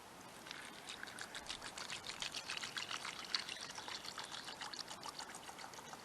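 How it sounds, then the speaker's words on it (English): Water is poured into a pot holding seven eggs, a fairly quiet, steady splashing trickle running for several seconds with small fluctuations as the stream hits the pot. "So, you add my water."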